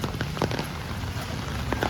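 Rain falls steadily in Varanasi, giving a dense, even patter with scattered louder drops throughout. The wash stays constant with no voices over it.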